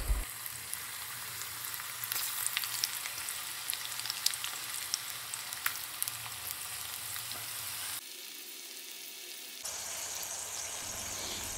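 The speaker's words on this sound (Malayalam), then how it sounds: "ഇപ്പോൾ നമ്മുടെ ചെമ്മീനെല്ലാം ഫ്രൈ ആയി വരുന്നുണ്ട്" Prawns frying in hot coconut oil make a steady, dense sizzle that stays close and continuous, with a brief drop in intensity before the crackling picks up again.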